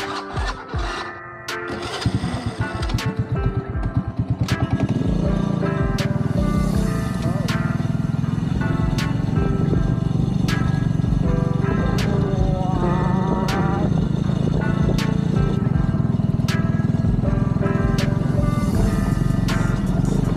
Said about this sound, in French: je prends la moto et on va aller un peu découvrir la région